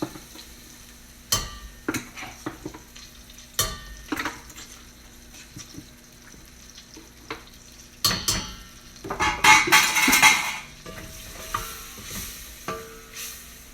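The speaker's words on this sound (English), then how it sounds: "Flour and butter cooked together is the basis of a lot of different sauces." A flour and butter roux cooks in a pan for mac and cheese. Scattered spoon clinks and scrapes against metal lead into a louder burst of sizzling and stirring midway.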